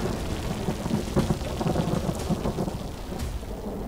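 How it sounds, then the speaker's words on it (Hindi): Torrential rain pours down during a storm in Rajouri, a dense, loud, constant roar with thunder rumbling through it and no one speaking. "मूसलाधार बारिश।"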